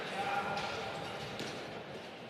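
A para pelota ball bounces once or twice, a sharp knock during the France vs Argentina Nations League final, set under steady crowd noise and continuous commentary.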